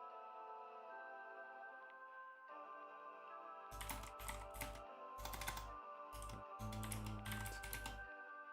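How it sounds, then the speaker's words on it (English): Fingers type on a computer keyboard in quick clustered bursts of clacking keystrokes, close and fairly distinct, laid over a faint steady background hum. "Now you can hear me typing"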